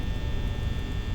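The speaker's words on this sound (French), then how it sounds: "Il y a un petit ventilateur" A small fan in the Five Nights at Freddy's video game hums at a steady level, with a constant tonal drone over broadband noise and no talk.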